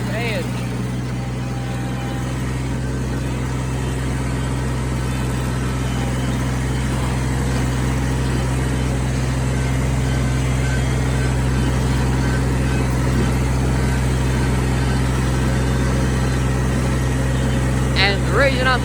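A John Deere compact 750 tractor engine drones steadily while bush hogging, a loud continuous low hum with rattling from rough ground, running alone for the whole stretch.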